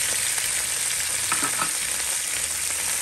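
Saltfish and cabbage sautéing in a pan for a Jamaican fry, a constant bright sizzle with a few soft stirring scrapes near the middle, no voices.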